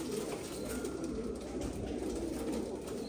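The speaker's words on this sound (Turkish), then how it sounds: "Yine burada çok güzel oyun kuşlarımız var." Tumbler pigeons cooing softly and continuously, a low murmuring coo from several birds close by, with no talk.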